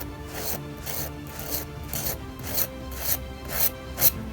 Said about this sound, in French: on vient dépolir la plaque de l'ongle